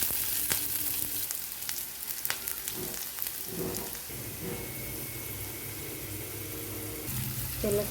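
Quiet sizzling of onions frying with turmeric, chili powder, masala and salt, punctuated by stirring clinks and scrapes against the pan, with no talk.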